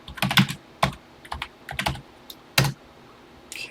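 Keys clatter on a TI-99/4A home computer keyboard as a BASIC program line is entered, a quiet, close, irregular burst of clicks with short pauses between, no talking.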